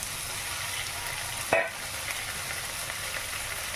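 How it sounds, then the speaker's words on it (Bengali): Onion paste with garlic and green chilli paste frying in a pan for a stingray curry: steady sizzling, broken once by a brief stirring scrape, close with no talking. "পেঁয়াজ বাটাটা দিয়ে দিচ্ছি এটা একটু কষে নিই"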